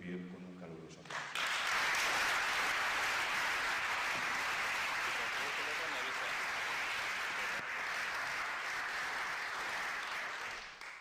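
Warm audience applause welcoming speakers at a talk on mediumship, a brief voice giving way to loud, dense, sustained clapping that holds steady for about ten seconds before easing slightly.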